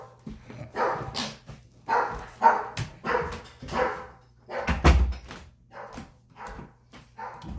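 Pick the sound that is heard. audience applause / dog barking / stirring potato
dog barking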